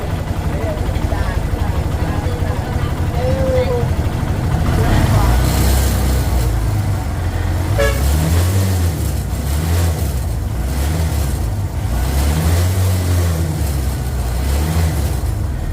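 Kawasaki Barako 3 motorcycle engine idling steadily after a reset, a continuous close mid-pitched running sound with slight revs, under someone talking.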